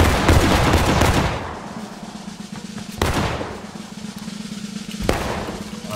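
Musket volleys crack out in a video game battle, with a dense burst of overlapping shots at the start and two sharper single volleys later. A low steady hum carries between them and no voices are heard.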